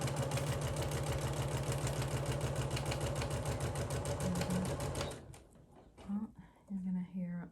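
A sewing machine stitches a paper-pieced quilt block with a fast, even mechanical chatter for about five seconds, then stops, followed by faint handling noises and brief low murmurs.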